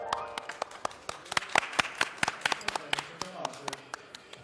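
An audience at a live talk-show stage event gives a burst of sharp, scattered hand claps, mixed with voices in the room.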